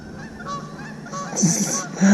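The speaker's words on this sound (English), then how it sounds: "Geese, would you shut up?" Geese honk at a distance over calm lake water, a few loose calls rising over a soft ambient hum, growing a bit louder near the end.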